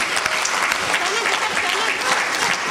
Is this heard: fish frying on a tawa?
no